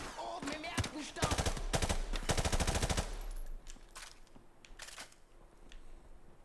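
Rapid automatic gunfire in Call of Duty Modern Warfare Remastered: dense bursts of close, loud shots in the first three seconds, then scattered single shots further off, with some game voice under the shooting.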